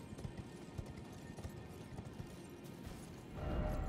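Horse hooves clip-clop in the Elden Ring video game, a quick, steady gallop of soft thuds at moderate volume over a dense background of game ambience that swells near the end.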